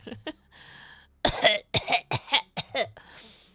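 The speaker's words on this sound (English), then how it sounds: "You cough louder." Several harsh, separate coughs in quick succession at close range, the later bursts louder and more forceful, after a brief soft throat noise at the start.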